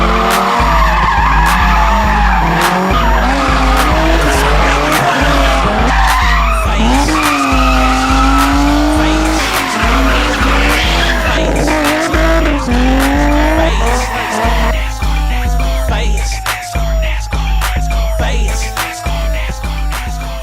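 Drift cars skidding with long, loud tire squeals layered over revving engines, continuous and close throughout.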